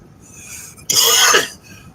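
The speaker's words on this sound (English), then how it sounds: "I'm going to have a coughing fit." One short, harsh cough close to the listener, preceded and followed by quiet breathing noise.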